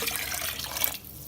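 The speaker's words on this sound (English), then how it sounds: "we've got to add water" Water pours steadily into an Instant Pot for vegan pho, a close, continuous splashing stream that stops abruptly near the end.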